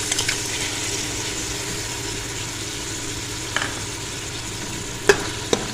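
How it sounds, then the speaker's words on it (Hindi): Fenugreek leaves fry in oil for an aloo methi curry, a steady close hiss of sizzling with no voices, broken by a few sharp clicks of stirring near the end. "ये लीजिए मेथी जो है हमारी भुनना शुरू हो गई है और देखिए इसने ऑयल भी छोड़ दिया"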